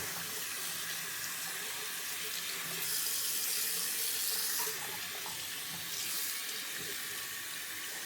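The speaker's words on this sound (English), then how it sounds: "So I'm rinsing like the darker color first because I don't want the colors to blend." A tie-dyed cotton t-shirt is rinsed under a running tap, a steady close hiss of flowing water that swells briefly as the fabric shifts under the stream.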